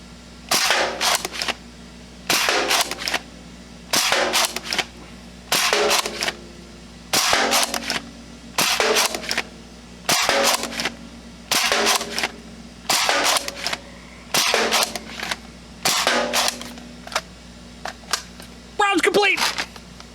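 Repeated bursts of shots from a rifle fitted with a T238 tracer unit, fired outdoors at night near a street light, coming in about a dozen evenly spaced loud volleys with short gaps between them.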